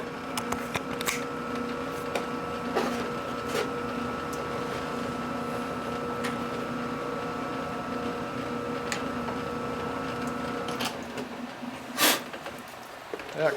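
Milling cutter machining a Harley-Davidson motorcycle engine part, struggling and cutting poorly: a steady mechanical whine with sustained tonal hum, scattered ticks and sharp clicks, one louder knock near the end, heard at close range.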